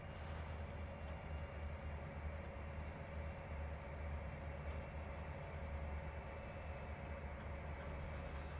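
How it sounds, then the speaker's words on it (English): A CSX freight train rumbles steadily in Trainz Simulator 3, a continuous low roar and rail noise with a faint high whine, no voices over it. "And there's the CSX train."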